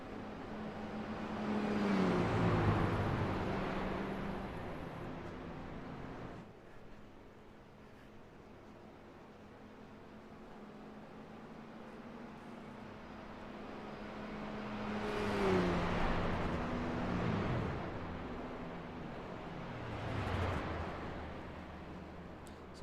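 Race trucks in a truck-series racing video game whine past and slow into pit lane, engine tones swelling and falling in several passes, with a quieter steady drone between them.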